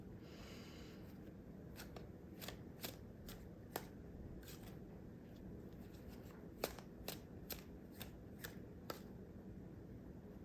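Tarot cards being shuffled by hand in a quiet room, a run of crisp, rapid riffling bursts and snapping flicks repeating irregularly, close and fairly soft, with no one speaking.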